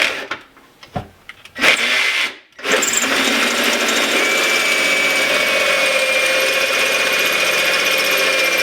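A power drill whines steadily through a stainless steel sink, preceded by a few short starts and stops, then running continuously with a thin high-pitched squeal near the end.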